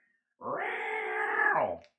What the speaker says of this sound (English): Oh, she's a good kitty, though.